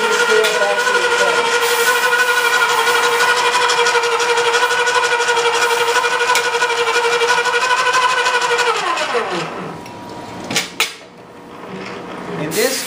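A Graco E-10 proportioner pump recirculating material through its hose runs with a loud, steady mechanical whine and hum, then winds down and stops near the end, followed by a few clunks.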